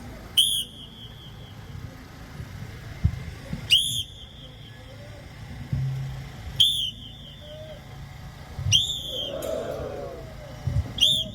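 Sharp whistle blasts at a boat race rehearsal, five loud, separate toots spaced a few seconds apart over steady outdoor background noise.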